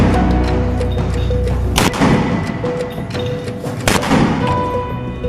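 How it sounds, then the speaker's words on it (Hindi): Hamas fighters launching rockets and 60 calibre mortars toward IDF positions in the Israel–Hamas war: two sharp, loud launch blasts a couple of seconds apart over a dense, roaring background. "इस वीडियो में कई रॉकेट्स और 60 कैलिबर मोटर लॉन्चर में भरे नजर आ रहे हैं और फिर हमास का लड़ाका एकाएक इन्हें आईडीएफ की तरफ दाग देता है।"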